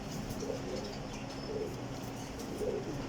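Prized flying pigeons cooing, with three soft, low coos spaced about a second apart over a steady background hum.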